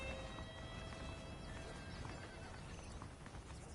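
Horses clop and snort amid a busy outdoor ambience in the video game Red Dead Redemption, with a whinny rising over steady hooves and a faint insect-like hum beneath.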